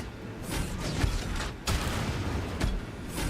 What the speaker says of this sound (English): What's with the gunfire in the hangar?